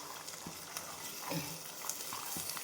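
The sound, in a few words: peas and rice sautéing in oil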